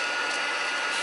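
A heat embossing gun blowing hot air over embossing powder, a steady, close, loud whooshing hiss that holds evenly throughout.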